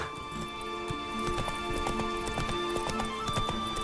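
Roach, the horse in The Witcher 3, gallops with quick, rhythmic hoofbeats, and a whinny rises near the end while game music plays underneath.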